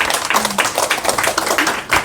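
An audience clapping at a Korean talk, a short burst of dense, moderately loud applause with overlapping hand claps that stays steady throughout.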